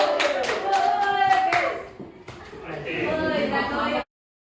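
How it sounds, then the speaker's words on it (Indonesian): A middle-school classroom applauding a student group, a short burst of clapping from many hands over a teacher speaking, fading as the talk continues. "kita beri tepuk tangan juga untuk kelompok 2 yang sudah berhasil"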